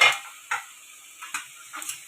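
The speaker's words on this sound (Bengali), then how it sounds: "প্রায় কিছুটা কুচানো পেঁয়াজ অ্যাড করে দিলাম, দিয়ে এটাকে আমি এখন একটু ভাজতে থাকবো।" Chopped onion frying in oil, quiet and close, with a faint steady hiss broken by a few short bursts of stirring.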